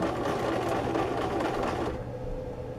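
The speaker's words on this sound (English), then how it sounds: "we're just having a chance to use the sewing machine" A sewing machine runs steadily while stitching a fabric scrunchie, a fast, even mechanical whir that stops abruptly near the end, leaving a quieter hum.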